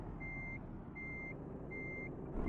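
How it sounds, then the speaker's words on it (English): A truck reversing in Euro Truck Simulator 2, three evenly spaced high electronic beeps from the reverse alarm over a steady low engine rumble, clear and close. "See if we can reverse back to it."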